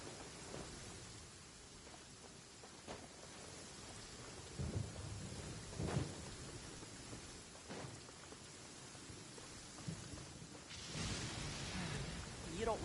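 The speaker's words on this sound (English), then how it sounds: "Where'd this rain come from?" Steady rain pours in a Genshin Impact game scene, with low rumbles of thunder swelling and fading over it, a heavier surge near the end, heard at moderate distance without talk.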